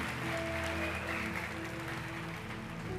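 Church congregation applauding the Lord during a baptism in the Holy Spirit service, a steady dense wash of clapping with some tonal sound underneath, fairly loud and continuous throughout.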